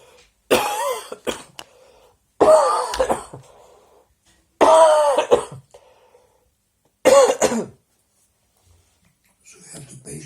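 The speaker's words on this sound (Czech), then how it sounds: "So you have to patiently cough until it stops, then you can speak." A person coughs in four separate harsh bursts at even intervals, each a rough throat-clearing hack with short silences between, ending with faint murmuring.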